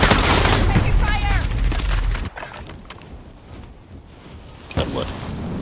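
Gunfire in a video game, a loud dense fusillade of shots that cuts off abruptly, followed by quieter scattered bursts and one more sharp crack near the end, with voices speaking over the opening.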